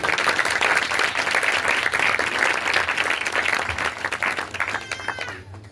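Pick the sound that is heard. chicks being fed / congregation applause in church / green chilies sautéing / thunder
congregation applause in church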